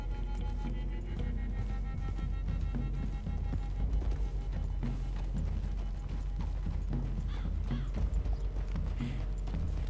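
Horse hooves clip-clop at a walking pace through woods in the video game Red Dead Redemption 2, a steady moderately close rhythm of thuds with faint ambient background.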